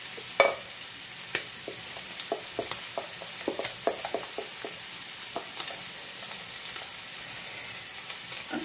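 Diced pancetta or guanciale sizzling in a pan for carbonara, with a steady frying hiss broken by irregular crackles and pops as it is stirred, alone with no voices.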